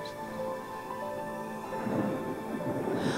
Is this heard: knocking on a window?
no